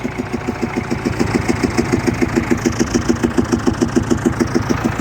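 A tractor engine idles with a steady, rhythmic chugging pulse, close and continuous, with a slight uneven knock in the beat from a suspected faulty valve.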